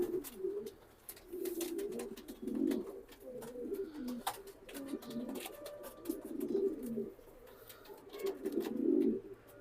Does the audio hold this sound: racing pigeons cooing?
yes